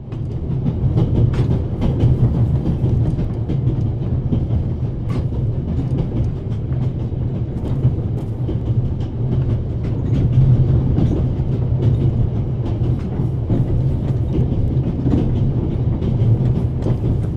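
A 1930s-era passenger train rolls along rails in the video game The Raven Remastered, a steady low rumble with faint rhythmic clickety-clack and occasional light clicks, continuous and unbroken with no talking.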